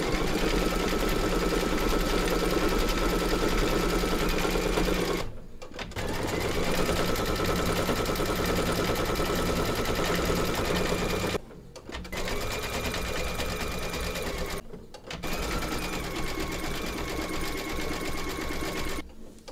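An embroidery machine stitches the black eyes and eyebrows of a bunny design, a fast, steady mechanical whirring chatter that pauses briefly a few times before resuming.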